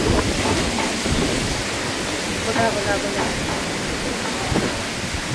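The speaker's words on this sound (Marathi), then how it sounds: "किती वारं सुटलंय. पाऊस बी आलाय" Heavy rain driven by strong wind roars as a broad, steady wash of noise, with a voice briefly calling out over the downpour.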